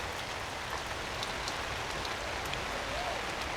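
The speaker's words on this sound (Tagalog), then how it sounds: "Pero sana dadaan lang yung ulan." Steady rain falls at a campsite as a continuous even hiss of drops hitting surfaces, with no distinct gaps across the short stretch.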